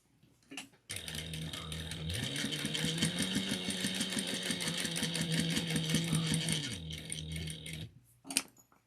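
Domestic sewing machine running a steady stitch through two to four fabric layers of a bookmark, a close, fast, even rattling hum lasting several seconds, then stopping, with faint handling clicks before and after.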